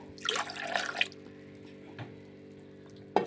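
Milk poured into flour for a cheese pastry dough, a soft liquid splashing and trickling close by for about a second, then quieter kitchen handling noises and a brief clatter.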